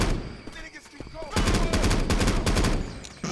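Rapid gunfire in the zombie shooter Left 4 Dead 2 on the Swamp Fever campaign, a dense sustained burst of automatic shots starting partway through after quieter game ambience, with a voice briefly heard.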